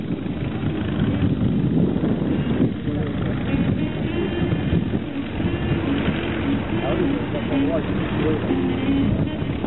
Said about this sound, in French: il zigzague un peu l'avion jaune